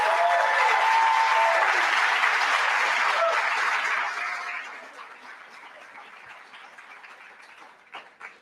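A graduation audience for the Career Online High School classes of 2020 and 2021 gives the graduates a full round of applause, loud and sustained for about four seconds before thinning to scattered claps.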